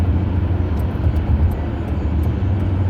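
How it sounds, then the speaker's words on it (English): A big truck passing on a road on a cold morning in Pennsylvania, a steady low rumbling drone of engine and tire noise heard nearby, filling the whole moment without any talking. "It's a big truck."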